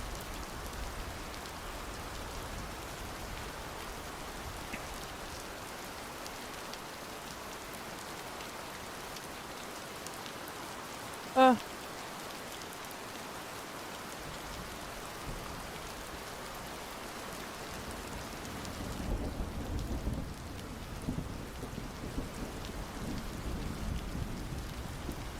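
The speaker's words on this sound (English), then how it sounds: "if I was listening to rain, I am." Steady rain patters on a surface throughout at low level, with a short sharp crack midway and a slightly heavier, rumbling wash of rain near the end; no voices.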